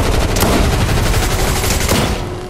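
Sustained rapid automatic gunfire in the video game Fortnite, a loud dense burst of shots rattling continuously for a couple of seconds before easing off, with no talking over it.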